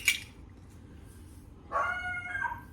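A beagle gives a short yelp, then after a pause a longer, higher drawn-out bark or howl, moderately distant in a quiet kitchen.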